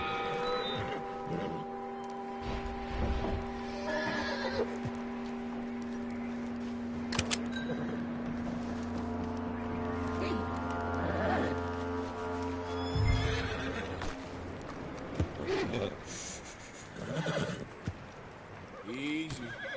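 Horse in the Red Dead Redemption 2 video game, whinnying and neighing with hooves clopping, mixed with game music tones and character dialogue.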